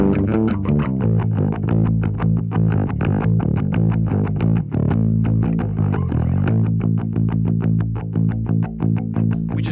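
Harmonic distortion driven through a Lindell 80 Series console plugin on a full music mix, a loud, dense, steady gritty saturation over rhythmic beats that runs without a break for the whole stretch.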